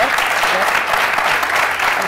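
An audience applauds loudly and steadily, a dense wash of clapping from many hands filling the room throughout with no pauses.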